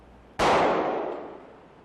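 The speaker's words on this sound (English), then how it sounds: "By shooting this jacketed hollow point bullet into a block of ballistic gelatin" A single sharp, loud report from a .40 caliber jacketed hollow point bullet fired into a block of ballistic gelatin, followed by a decaying ring-out that fades over about a second and a half, with no talk.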